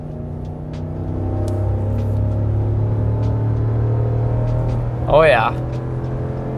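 A Ram 1500 pickup with the 5.7L HEMI V8 at full throttle, accelerating from 60 to 110 km/h: a steady, deep engine drone heard from inside the cab, with a brief excited voice cutting in near the end.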